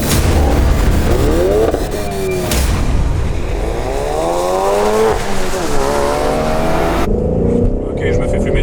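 Tires of a Ford Mustang GT or Ford Focus RS spinning and squealing hard at launch, loud engine revving with rising and falling screeches, smoky wheelspin, with people talking over it.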